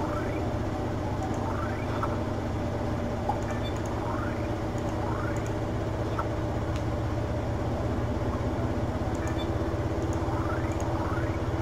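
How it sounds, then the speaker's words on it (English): A washing machine runs loudly and continuously, a dense rumbling drone with steady mechanical churning and repeated whirring rises, close and unbroken throughout. "Pretty sure you guys can hear the washing machine going crazy right now."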